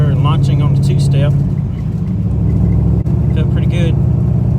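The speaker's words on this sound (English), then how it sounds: "Car still spun after launching on the two-step." A car with a 383 stroker engine launching off a two-step limiter on a street, a loud steady low engine drone that shifts in pitch as it pulls away, with a voice talking over the start and again near the end.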